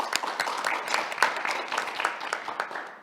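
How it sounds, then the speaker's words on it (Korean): Audience at an academic winter conference applauding as a university professor is introduced to present, a dense, steady burst of many hands clapping that fills the room from start to finish. "큰 박수 부탁드립니다."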